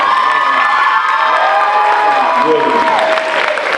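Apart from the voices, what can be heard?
crowd cheering and applauding for the school band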